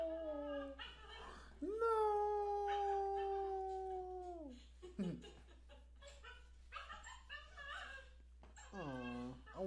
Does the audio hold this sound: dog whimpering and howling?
yes